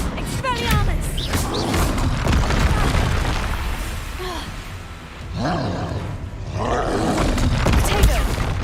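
A troll in the video game Hogwarts Legacy lets out deep, loud roars and booming growls, repeated over a rumbling battle din, with a voice speaking in places.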